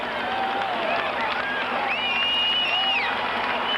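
A large stadium crowd at the Seattle Kingdome cheers and whistles before an Evel Knievel motorcycle jump, a continuous roar with shrill whistles rising above it throughout.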